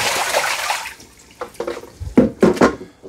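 Water splashing and rinsing inside the dirty water tank of a Roborock S8 MaxV Ultra robot vacuum and mop dock, a steady gush at first, then several sharp sloshing bursts near the end.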